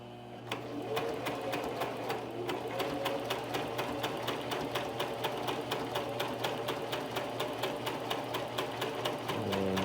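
Sewing machine running steadily for about ten seconds, stitching homemade replacement pads for an Oreck Orbiter floor machine, with a fast, even needle rhythm of clicks over a low mechanical hum and no voices.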